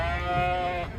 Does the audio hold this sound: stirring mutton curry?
no